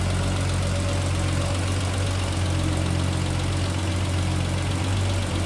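Engine of a 1973 Triumph TR6 convertible with three two-barrel carburetors running steadily at idle, a continuous close-up low rumble with even vibration and no talking.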